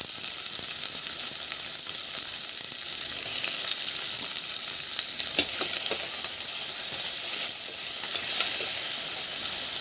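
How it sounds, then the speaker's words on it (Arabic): Onions, peppers and chicken gizzards sauté in a pan, giving a loud, steady, close-up sizzle and crackle that runs unbroken throughout, with no voices. "كده هنزل بالبصل بتاعي بالشكل ده ياخد بس تشويحتين"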